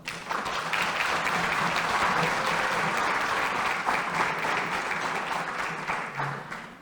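Sustained applause from a panel audience welcoming a retired lieutenant colonel to speak, steady and full for several seconds before tapering off.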